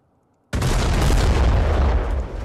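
Battleship guns in Foxhole erupt in a sudden, heavy boom after near silence, followed by a long rumbling roar that slowly fades, loud and close.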